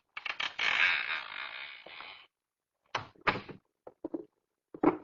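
A door creaks open slowly with a long, loud, grinding squeal, then a pause followed by several shorter creaks and clunks of the old hinges, alone in quiet surroundings.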